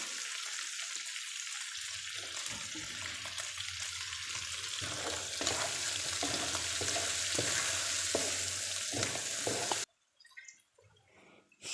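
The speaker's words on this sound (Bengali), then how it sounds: "এখন আমি পেঁয়াজ কুচি দিয়ে দিচ্ছি ও কিছুটা রসুন কুচি দিয়ে দিচ্ছি" Chopped onion and garlic hitting hot oil in a pan, a loud steady sizzle that swells and carries on with faint stirring scrapes, then cuts off abruptly near the end, close and without talk.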